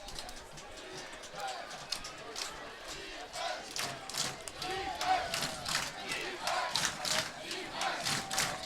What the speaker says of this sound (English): The crowd cheering for some defense.